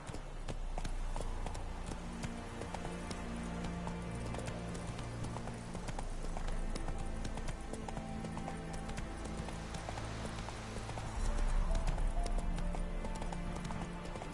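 The horse Roach gallops in The Witcher: Wild Hunt video game, a quick, steady run of hoof clip-clops under game music, growing somewhat louder toward the end.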